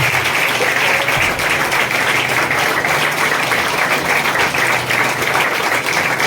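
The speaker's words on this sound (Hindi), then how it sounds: "हम जोर से परमेश्वर के लिए ताली बजाएंगे" Church congregation at a Sunday service clapping loudly for God, a dense, sustained wall of hand claps with a low hum beneath, no speech on top.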